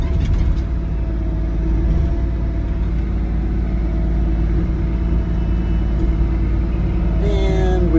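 A 2022 Doosan DX50R-7 mini excavator swinging around, with a loud, steady, close diesel engine rumble and hydraulic drone throughout and a brief higher whine near the end.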